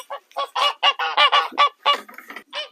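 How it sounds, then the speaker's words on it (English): Geese in a French château garden honk in a rapid, loud run of harsh calls close by, one bird after another with barely a pause between them. "The geese will shout at you for a minute."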